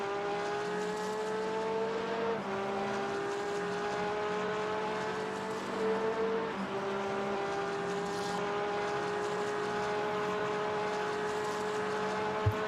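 Racing engines of RWB cars in RaceRoom drone steadily and loudly, their pitch sliding as they shift gears, with a second engine overlapping close by and a faint squeal near the end.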